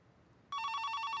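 Phone starts ringing suddenly after a quiet moment, a rapid trilling electronic ring that continues steadily, clear and fairly close.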